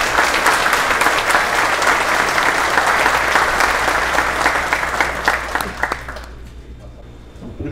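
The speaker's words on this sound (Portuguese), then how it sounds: "um salve de palmas" Applause from the assembly at an association election in Umuarama, a dense sustained clapping that fills the room, holding steady for most of the clip before tapering off near the end.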